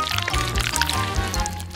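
Thick chocolate paste being poured for a layered chocolate sweet, giving soft wet glugs and splats with gooey, uneven plops over a busy background.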